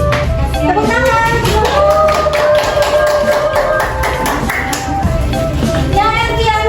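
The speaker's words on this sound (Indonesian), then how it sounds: "Tepuk tangan." A class of young schoolchildren claps in a quick, dense patter that keeps up throughout, loud and close, mixed with excited children's voices.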